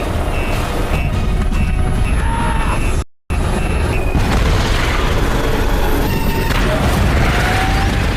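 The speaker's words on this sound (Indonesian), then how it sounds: "memberikan bom cadangan untuk meledakkan helikopternya" A bomb blows up a helicopter, heard as a loud, dense explosive rumble with mechanical noise, briefly cut to silence midway before the roaring blast and debris noise resume.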